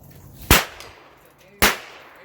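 Two sharp, loud cracks from a .22 rifle at a gun range, about a second apart, each with a short decaying tail against quiet background.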